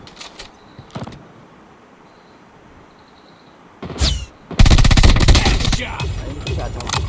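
Gunfire in the mobile shooter Call of Duty Mobile: a few scattered shots early, then a burst around four seconds and a loud sustained run of rapid automatic fire over the last few seconds.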